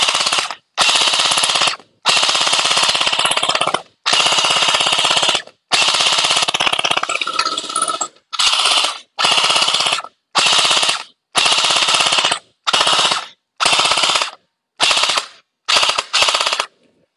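Rapid bursts from an EMERBU M4a1 Gen8+ gel ball blaster with an upgrade, loud and close, firing in a run of about a dozen quick automatic strings separated by brief pauses, with no talking.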